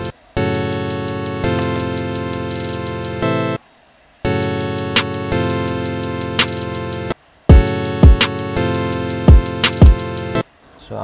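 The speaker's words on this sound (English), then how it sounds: "So let's make drums." A programmed trap drum beat of rapid hi-hat ticks, punchy kicks and pitched-down sliding bass hits over a sustained chordal loop, loud and rhythmic with brief dropouts between bars, no talk.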